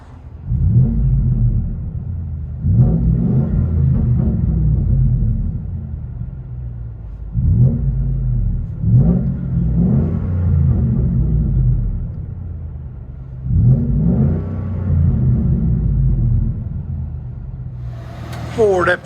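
A 2014 Ford F-150 XLT 5.0L V8 with true dual DYNOMAX Race Bullet exhausts, heard from inside the cab, rumbles deeply and swells in repeated revs, each surge rising and then settling back to idle.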